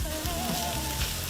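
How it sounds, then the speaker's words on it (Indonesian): Beef, tendon and shank dropped into hot oil for beef kway teow, giving a dense, steady sizzle with faint crackling, close and continuous throughout the short moment. "Pertama-tama masukkan daging, urat, dan sengkel ke dalam minyak."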